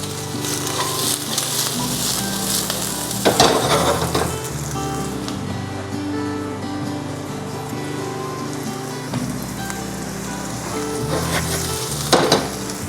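Six cloves of minced garlic and half a large onion fry in a pan for Philippine pancit canton, giving a steady close sizzle with a few louder bursts of stirring, no voices.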